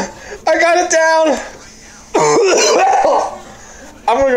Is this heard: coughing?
yes